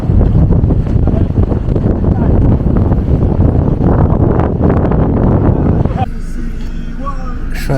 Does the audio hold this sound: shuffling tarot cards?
no